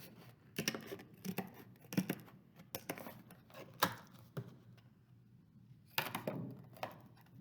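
Plastic board is cut by hand, making faint, close, irregular snips and crunching clicks that come in quick clusters with small pauses between them.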